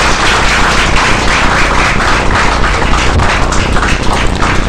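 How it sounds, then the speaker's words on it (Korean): Dense, steady applause from an audience at a student preaching contest as ten students bow, a continuous wash of many hands clapping for the full length without a break. "큰 박수로 우리 격려해 주시겠습니다"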